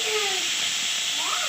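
Boiled potatoes, tomatoes and onions fry in a pan, giving a steady, close, continuous sizzling hiss throughout, with faint tonal sounds drifting over it.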